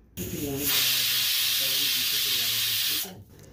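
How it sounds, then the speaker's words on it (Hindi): Pressure cooker whistle hissing loudly as steam vents while veg pulao cooks, a sustained bright rush lasting about two and a half seconds, close and steady, then cutting off sharply. "एक सीटी लग गया है कुकर को"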